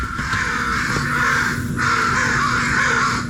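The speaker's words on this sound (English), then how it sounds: "crow wake-up call." Crows cawing in the morning in a downtown city spot, two long harsh caws close by, one after the other, over faint background hum.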